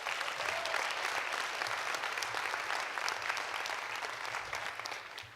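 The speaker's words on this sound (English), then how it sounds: "Let's give him a round of applause." Audience applause at a community engagement conference keynote, a steady, dense clapping from a large crowd sustained for several seconds before tapering slightly at the end.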